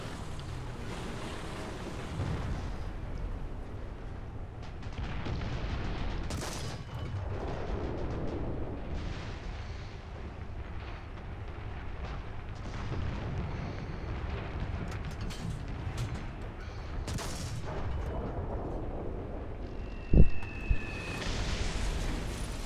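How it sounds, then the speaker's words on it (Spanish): Continuous rumbling battle sounds in War Thunder roll on, with distant booms and blasts of tank cannon fire and bombs falling from aircraft, ending in a sharp, louder explosion. "cómo es el eco del disparo, cómo se escucha, cómo es la caída de las bombas de los aviones"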